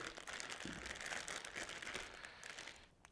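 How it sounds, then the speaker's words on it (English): Plastic bag of seafood crinkles and rustles close up as it is opened, with continuous crackling handling noise and a soft snip partway through, quiet overall. "open your bag nice and carefully"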